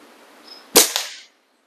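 A single sharp, loud crack of an Air Venturi Omnistorm air rifle shot, close by, with a brief ringing tail and quiet surroundings before and after.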